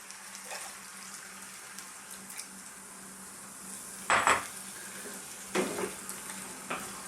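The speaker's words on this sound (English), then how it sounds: "give it a stir there" A spoon scrapes and knocks around inside a pot of carrot and lentil curry, with a couple of louder clanks over a quiet simmering background.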